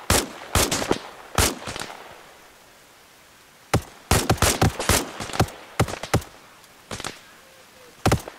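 Arma Reforger firefight: sharp individual rifle shots and short bursts cracking out irregularly, a pause, then a denser run of gunfire with several loud close reports.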